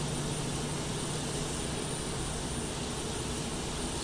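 An airliner jet engine spools up during start on the flight deck, a steady loud roar and whine filling the cabin with no distinct separate thump standing out.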